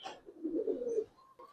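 Pakistani high flyer silver pigeons, a Giribaz coloured breed, coo in a single low rolling call lasting about a second, close and fairly clear, with faint bird chirps before and after.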